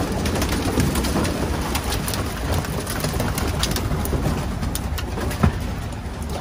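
Pigeons coo inside a racing pigeon loft, soft and continuous over a steady background hum, with no talking.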